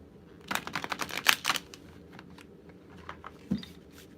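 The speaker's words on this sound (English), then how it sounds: "These big oracles are sometimes hard to shuffle." A large oracle card deck being shuffled by hand, a quick run of papery riffling clicks over about a second, then a few softer isolated card taps, close and quiet with no talk.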